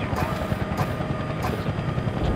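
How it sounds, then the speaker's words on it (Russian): Helicopter in an online multiplayer shooter game, a close, steady rotor thrum with a chopping pulse, heard alone without talk. "Вертолет выше, выше, давай, выше."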